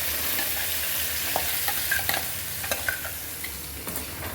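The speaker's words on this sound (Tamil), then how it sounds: "இந்த அரைச்சி வச்ச தக்காளி வெங்காயம் வந்து நான் அப்படியே இந்த எண்ணெயில் அப்படியே கொட்டிடுவேன்" Steady sizzling of ground tomato-onion paste frying in hot oil, with occasional stirring scrapes and pops, close up and continuous, no voices.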